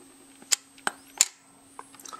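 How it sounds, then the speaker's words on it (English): A Diana+ film camera's shutter opens and closes with sharp mechanical clicks around the firing of a flash, which gives a faint high whine, then a few softer clicks and rattles follow. "Open the shutter, hold it, fire the flash, close the shutter."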